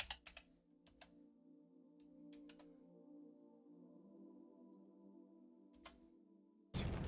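Scattered keystrokes on a computer keyboard, a few quick clicks in small clusters separated by pauses, faint and close over a low steady hum, ending in a sudden burst of louder noise.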